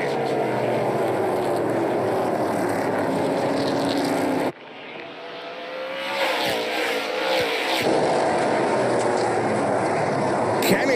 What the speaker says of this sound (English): Kennington and Lacroix got on the throttle quick